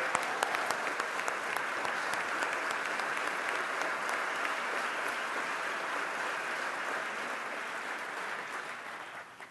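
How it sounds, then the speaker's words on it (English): Steady, sustained applause from lawmakers in a state assembly chamber, continuous and fairly even for nearly ten seconds with no talk over it. "I want to give a big round of applause to the Majority Leader"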